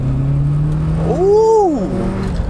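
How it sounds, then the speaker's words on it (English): A Porsche 944 Turbo engine revs up under acceleration with a rising, smooth tone that swells and then eases off, close and fairly loud over steady road hum. "Spirited driving in a 944 Turbo. Should we see what it does?"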